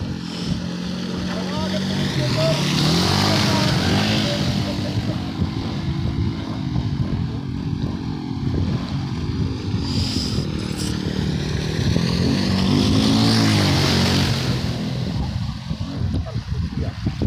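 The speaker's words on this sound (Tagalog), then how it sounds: "mga motor dito, patawid" Motorcycles crossing a flooded road, engines droning and revving as they pass through the water, loud and close with splashing, alongside people talking.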